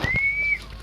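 A single sustained whistle blast rises and holds for about half a second, clear and close, then tails off downward.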